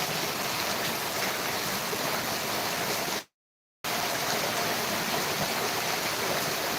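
A rain-swollen stream in flood after heavy rain in Dharmavaram roars continuously at close range, broken by a brief moment of silence midway before the rushing water resumes; no talking.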